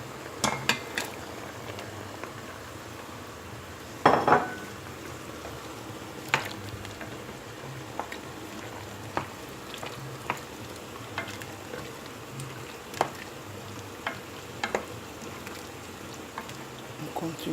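Tomato added to sautéed aubergine sizzles and fries steadily in a pan, with scattered clinks and scrapes of a utensil stirring against the pan and a sharper clatter near the start, close and moderately loud.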